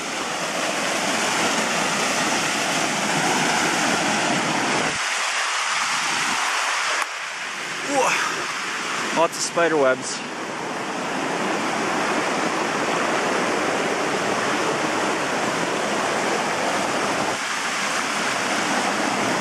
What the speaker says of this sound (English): I see another huge waterfall up here.